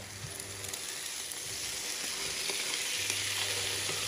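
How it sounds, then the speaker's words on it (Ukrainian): Chicken liver and apple pieces sizzle steadily in a hot frying pan, a continuous close crackle with light stirring and no talk. "Смажимо приблизно 3 хвилини та додаємо назад печінку."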